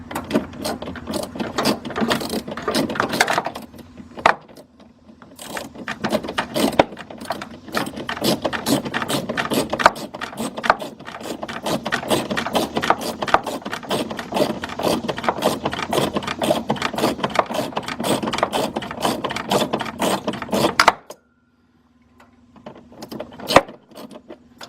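Rapid ratchet clicking from a wrench turning bolts on a 2000 Dodge Ram Van B1500 during blower motor replacement, long steady bursts of close, loud clicks with brief pauses, then a final short run after a silence.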